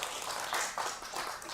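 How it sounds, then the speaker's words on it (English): Brief, fairly quiet applause breaks out among the audience at a municipal public hearing, a short patter of clapping lasting just over a second. "I would ask that there not be applause."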